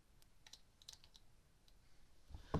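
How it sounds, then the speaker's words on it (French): Quiet, sparse keystrokes as a terminal command is typed on a computer keyboard for a homemade Raspberry Pi touchscreen tablet, ending in a louder clack. "il va falloir ouvrir un terminal et taper la commande SET XKBMAP espace FR"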